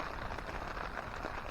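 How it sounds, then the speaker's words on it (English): Rain falls at a snowy campsite beside a stream, a steady, dense patter and hiss that stays even throughout, with no voices. "listen to the rain for a little bit"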